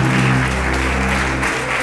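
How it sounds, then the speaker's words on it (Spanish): Applause from an audience at a Marbella awards event, steady and dense clapping filling the whole stretch with no voices over it. "Aplauso, hombre, un aplauso ahí, que era fenomenal."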